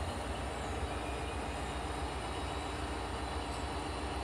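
An Amtrak passenger train rumbles past close by, giving a steady, loud, continuous low roar of wheels and rail noise with no voices.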